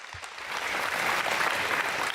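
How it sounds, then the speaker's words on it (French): Townspeople at a New Year's greetings event in Cocumont applaud the municipal team, the clapping swelling quickly from a few hands into a full, even round that holds to the end. "on peut les applaudir parce qu'ils font du boulot."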